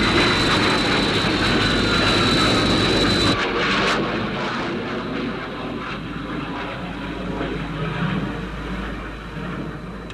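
The Sky One jet aircraft from the UFO series roars loudly during takeoff, then the sound cuts and fades to a softer, lingering rumble as it climbs away.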